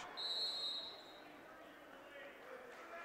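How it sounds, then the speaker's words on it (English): A referee's whistle blows once, short and sharp, during a high school boys basketball game in a gym, heard faintly over crowd murmur and an announcer talking. "A whistle away from the ball"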